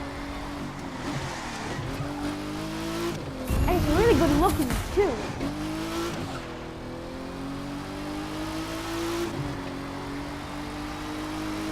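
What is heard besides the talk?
racing car engine in a video game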